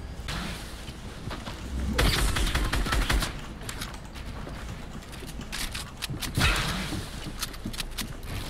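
Rapid automatic fire from a drum gun in Fortnite, a dense crackling fusillade running throughout with louder bursts near the start and late, close and busy with game noise.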